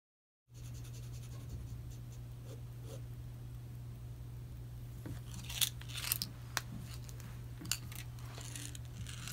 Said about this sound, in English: Now I'm going to take my black paint marker and I'm going to draw the bumblebee outline